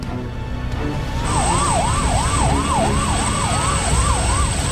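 An emergency vehicle siren at an airport runway wails in a rapid repeating rise-and-fall pattern over a rumbling background, loud and fairly near, with no talk.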